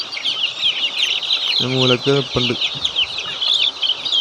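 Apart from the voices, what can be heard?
Fayoumi cross chicks clucking in a brooder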